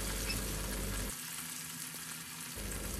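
Stuffed gunda vegetables frying in oil over a low flame, a continuous close sizzle that thins out briefly midway before swelling again.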